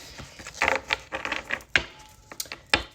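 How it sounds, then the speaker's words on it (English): A deck of tarot cards is shuffled in a few quick bursts of crisp riffling and slapping clicks, fairly close and with no voices. "let's get a quick shuffle in"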